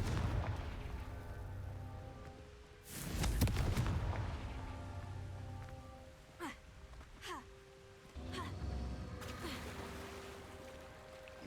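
Casting the Confringo spell in Hogwarts Legacy sets off a loud booming blast, followed by a few sharper magical cracks and crackling bursts against a rumbling background.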